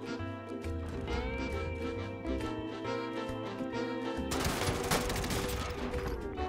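Gunfire from Call of Duty: Warzone, with a short burst of rapid shots rising suddenly over a steady music bed and holding loud to the end.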